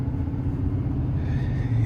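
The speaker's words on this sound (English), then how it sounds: "starting the test drive in this Sierra 3500 HD Denali Ultimate" Steady, deep rumble inside the cab of a 2026 GMC Sierra 3500HD Denali Ultimate dually pickup with a Duramax engine on a test drive, constant and fairly loud with no speech.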